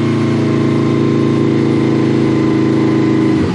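A Honda VFR800 VTEC motorcycle engine held at around 4,000 RPM, a loud, steady, buzzing drone with an even pitch that stays constant throughout.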